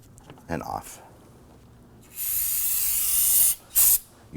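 Spray solvent is aimed at a 2008-2011 Ford Focus battery terminal: a faint clatter of handling first, then a long steady aerosol hiss, a brief pause, and a second short burst of spray.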